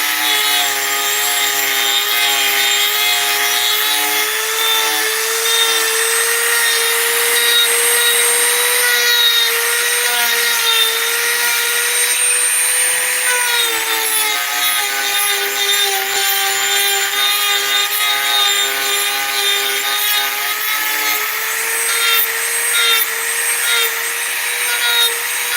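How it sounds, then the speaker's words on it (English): Wood being sanded on a dresser under repair, a steady, loud, continuous abrasive whine with a droning tone that runs unbroken for the whole stretch, close by and with no talking. "Almost got the sanding that we're going to do done."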